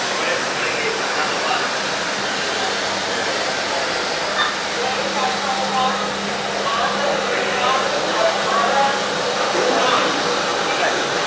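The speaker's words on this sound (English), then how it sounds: "The vacuum, the squeegee is basically picking up all the solution that we've just dropped down." A floor scrubber's vacuum squeegee sucks up cleaning solution from a concrete floor at Isle Casino & Racing in Pompano Beach, a loud, steady rushing roar that continues without a break.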